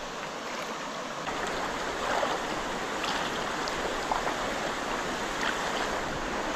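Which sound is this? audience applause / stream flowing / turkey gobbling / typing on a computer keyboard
stream flowing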